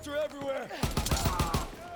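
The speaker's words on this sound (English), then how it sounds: "shotgun is everywhere, and there's fireworks" Rapid shotgun and gunfire bursts in the video game Call of Duty WW2, a quick series of about six sharp close shots following a tonal in-game sound, with a player's voice present.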